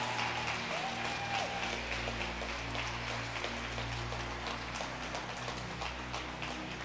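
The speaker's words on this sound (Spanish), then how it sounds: "Vamos, levante un aplauso de adoración al Señor." A church congregation claps in worship during a Sunday service, a continuous wash of many hands heard from a distance over a low steady hum and faint background tones.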